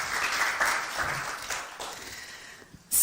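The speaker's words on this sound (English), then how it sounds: "Should we just give them a little clap?" Audience giving a short round of applause after a talk, moderate scattered clapping that thins and fades toward the end before a sharp noise at the close.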